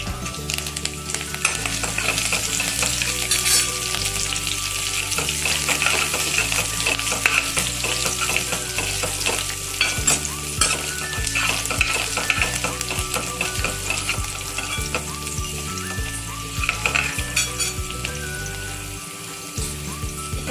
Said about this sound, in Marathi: लसूण दिसतोय तुम्हाला लालसर रंगावर परतला गेलाय छान